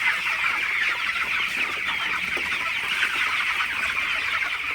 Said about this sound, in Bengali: ব্রয়লার মুরগির সকালবেলায় আসলে মুরগিগুলা কেমন করে